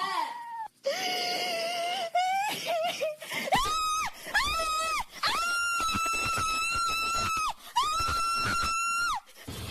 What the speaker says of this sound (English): Sobbing followed by horrific screams.